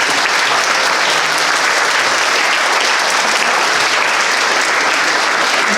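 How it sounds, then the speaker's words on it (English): Loud, sustained applause from the audience at a city council candidate forum, a dense even wash of clapping that carries through the whole stretch with no speech over it. "Give them all a round of applause for those."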